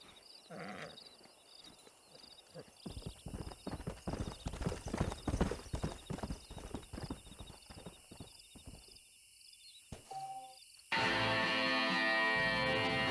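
Horse hooves clip-clop in Red Dead Redemption, a dense run of close rhythmic hoofbeats that thins out and stops, followed by a steady louder noise, with no talk.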